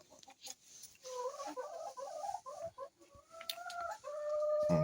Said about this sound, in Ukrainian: Зараз дві куриці залізли в гнізда.